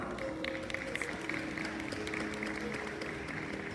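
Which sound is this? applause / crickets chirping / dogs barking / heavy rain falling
applause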